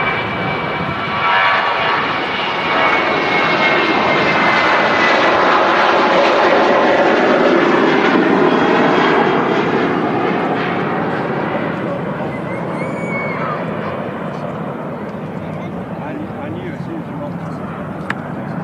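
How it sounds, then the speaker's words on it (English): A Ryanair Boeing 737-800 departs Manchester Airport for Dublin, its jet engines roaring loud and steady, then sweeping away and fading over many seconds, with a voice talking over the noise. "There's another Ryanair departing."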